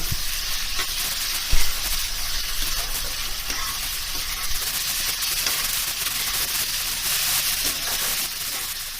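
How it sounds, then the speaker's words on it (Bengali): Chili, ginger and garlic spice paste fries in a pan for chicken curry, giving a steady close sizzle with soft stirring scrapes and one brief knock, no voices. "পেস্টটা দিয়ে একটু নাড়াচাড়া করে নিচ্ছি।"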